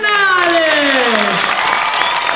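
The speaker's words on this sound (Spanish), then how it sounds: "Quisiera pedirles un fortísimo aplauso para nuestros artistas" An audience at a PortAventura World season-finale show applauds the artists, dense clapping and cheering under a trailing, descending amplified voice that fades out, leaving steady loud applause.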